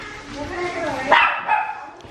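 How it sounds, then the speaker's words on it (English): A dog barks and yelps indoors on a rainy night, one sharp close bark standing out over ongoing household talk and a second smaller bark after it. "No barking."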